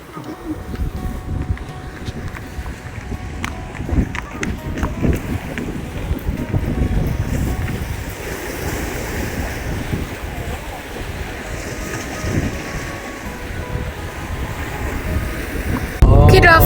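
Strong wind buffets the microphone at Bangsaen beach in Thailand while waves wash and surge nearby, a loud, rough, continuous roar with gusty bursts.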